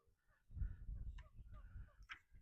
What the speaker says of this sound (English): Classic, the ducks are right in my spot again.